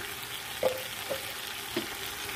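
Ground spices, paprika, ras el hanout and ground coriander, being stirred in a frying pan while cooking couscous with cardoons, a soft steady sizzle with a few faint scrapes of the spoon, close and without talk.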